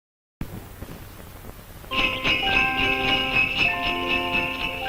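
A doorbell chimes in an old radio advertisement for a Remco toy, ringing as a steady series of bright, sustained tones that overlap and ring on after a quieter stretch of low room noise.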